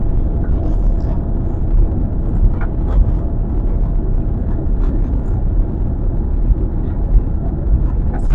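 A Qatar Airways airliner accelerating down a very large runway for takeoff gives a loud, continuous low roar and rumble that holds steady throughout.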